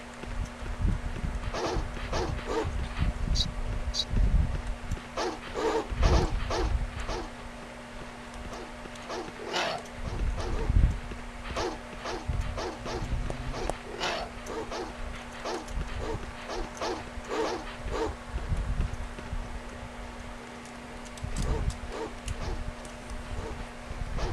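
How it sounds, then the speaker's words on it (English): Dogs in the horror game Alone in the Dark bark and yelp in repeated short bursts over a steady low hum and scuffling footsteps, fairly close and loud throughout. "Dan, these dogs are kicking my ass"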